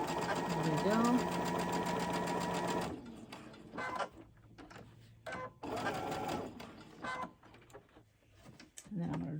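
A sewing machine runs steadily as it stitches quilt pieces, a continuous close mechanical hum that stops abruptly, followed by a few short bursts of stitching with quiet pauses and a voice talking between them.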